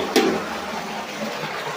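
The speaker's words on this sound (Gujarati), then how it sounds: "એક આ બાટલો ભરી દીધો." Water pours into a bottle, starting with a short splash and then settling into a steady rushing flow for the rest of the moment.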